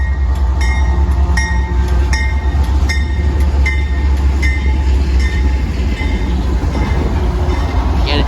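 A train passes steadily at Depew Amtrak station on a December evening, engines 7219 and 895, a loud close rumble with repeated rhythmic wheel clicks over rail joints throughout, no talking.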